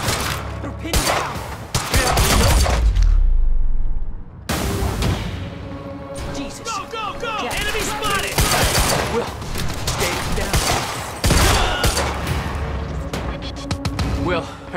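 Gunfire erupts in the video game Quantum Break. Bursts of loud, rapid shots and booms pile up in dense volleys with brief pauses, while shouted voices are heard under the shooting.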